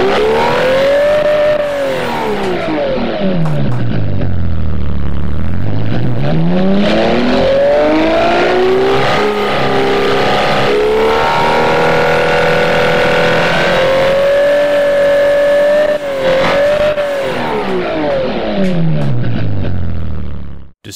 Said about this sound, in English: let's give you here what this engine sounds like right now.